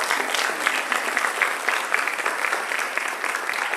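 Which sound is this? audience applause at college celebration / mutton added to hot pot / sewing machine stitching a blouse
audience applause at college celebration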